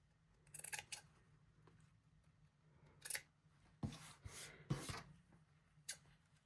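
Fabric scissors snip away dog-ear corners of fabric pieces for a sawtooth block sweater: a few short, crisp cutting bursts spaced irregularly, close and fairly quiet over a low steady hum.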